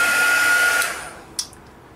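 A hand-held hair dryer blows steadily over an art journal page, a close, loud whoosh with a faint whine that winds down after under a second, followed by quiet and a single brief tap.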